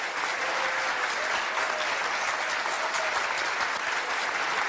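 Steady, dense applause from a large audience greets a singer at a New Year's Eve artists' show in Pucioasa, a continuous wash of clapping at even loudness throughout.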